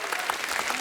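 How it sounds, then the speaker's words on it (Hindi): Studio audience applause on a comedy talk show, a dense wash of many hands clapping, loud and continuous for under a second. "तालियां हो जाए।"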